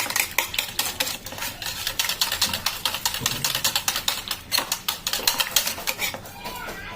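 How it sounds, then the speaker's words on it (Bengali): Mango, milk and egg being whisked together in a bowl for a mango pudding, a rapid, close, rhythmic clinking and sloshing of the whisk against the bowl that runs steadily throughout. "এরকমভাবে ভালো করে ম্যাঙ্গো, দুধ আর ডিমটা একসাথে মিক্স করে নিতে হবে।"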